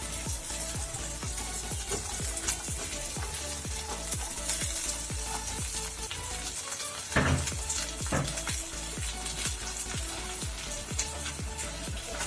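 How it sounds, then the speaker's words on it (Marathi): Cauliflower and peas fry steadily in hot oil for a matar paneer dish, a continuous close sizzle with light stirring and a brief clatter of a utensil against the pan midway. "फ्लावर तो पण वाटाण्यामध्ये थोडंसं असं तेलामध्ये फ्राय करून घेतो"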